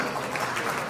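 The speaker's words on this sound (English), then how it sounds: "Please give him a big round of applause" A steady wash of applause from a convention audience, dense and continuous throughout the short moment.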